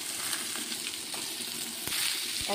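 Chopped potatoes frying in hot oil seasoned with bay leaf and whole cumin, a steady close sizzle with a few sharper crackles and stirring clinks near the end, no talk.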